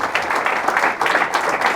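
Sustained clapping from a Guatemalan church congregation honoring the Señor de Esquipulas, a full, even wash of many hands with slight swells, continuing without pause for nearly two seconds.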